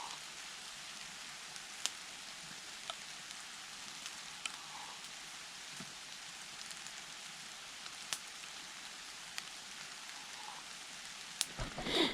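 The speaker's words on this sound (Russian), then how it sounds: "Полдня сегодня моросящий дождь." Fine drizzling rain in the taiga patters as a steady, even hiss with scattered sharper drip ticks, close by and continuous, with no voices.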